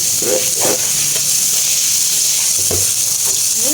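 Chopped onions sizzling steadily in a hot pan, a loud continuous frying hiss with a few soft scraping stirs.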